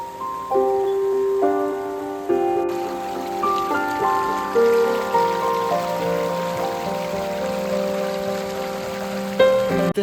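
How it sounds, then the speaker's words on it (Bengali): A waterfall on Parasnath Hill in Jharkhand, set in dense forest, gives a steady rushing of flowing water that runs the whole time beneath louder tonal music. "অনেকক্ষণ ধরেই জল বয়ে যাওয়ার শব্দ শুনছি।"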